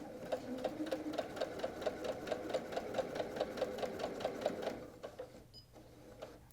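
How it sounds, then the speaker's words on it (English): A sewing machine stitches a quilted flying-geese zipper pouch in a rapid, even mechanical rhythm up close, then slows and stops near the end with a few small clicks. "All right, let's start sewing."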